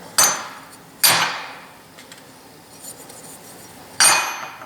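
An unground steel part is set down on a metal welding surface, producing sharp ringing metallic clanks, three loud impacts with faint clinks between, each decaying quickly.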